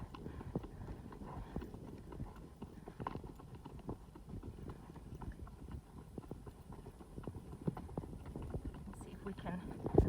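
A fresh horse trots at the start of a Tevis Cup endurance ride, its hooves clip-clopping in a quick, steady rhythm at moderate distance over outdoor background noise.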